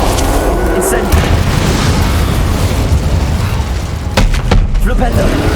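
An Incendio fire spell is cast in Hogwarts Legacy amid heavy combat, a loud whooshing burst over constant rumbling booms, with several sharp pops near the end and a voice speaking briefly.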